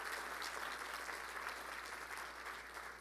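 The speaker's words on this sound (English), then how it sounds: "I think she deserves another round of applause" An audience at a conference session applauds a presenter with a steady, fairly faint round of clapping that holds evenly for a few seconds and fades slightly at the end.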